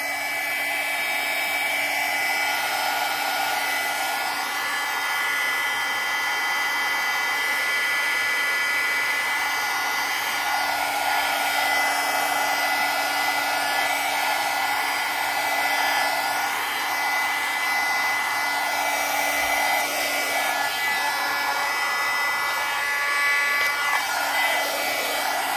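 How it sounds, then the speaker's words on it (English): A heat gun blows steadily on a wrinkled paper junk journal page to press it flat, a continuous loud airy roar that holds for the whole stretch with slight shifts in pitch as it moves. "just apply that heat gun on there and it'll press that sheet straight brand new"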